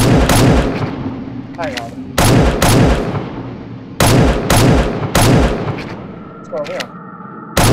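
Video game pistol and shotgun fire in an escape level: repeated loud, close booming shots in irregular bursts, about eight blasts, with someone talking between and over them.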